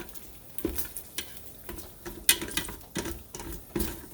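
Bacon cooking in a Ninja Foodi is stirred and shuffled around, giving irregular scraping clicks and soft pattering knocks over a faint sizzle, spaced unevenly over a few seconds.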